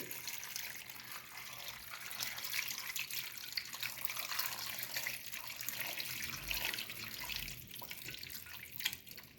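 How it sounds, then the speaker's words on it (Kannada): Water pours into a pressure cooker in a steady splashing stream for several seconds, close by, with occasional drips and clinks near the end. "ನೀರು ಹಾಕೊಳ್ತಾ ಇದ್ದೀನಿ ನೋಡಿ"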